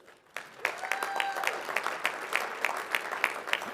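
Audience at a business annual meeting applauds a keynote speaker, a steady burst of clapping from a fairly large room that starts abruptly and carries on evenly, with no talk over it.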